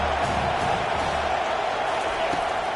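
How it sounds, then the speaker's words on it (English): Home stadium crowd at a Boise State versus Washington college football game, a dense, roaring wall of cheering that stays loud and steady throughout. "how nice is it to have the home crowd going absolutely bananas?"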